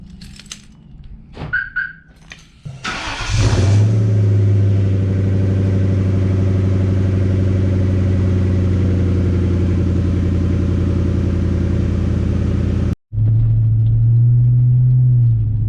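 A 1997 Ford Mustang GT with a V8 engine drives along with a loud, steady engine drone and a low rumble. The sound briefly cuts out near the end, then the engine resumes at a slightly higher pitch.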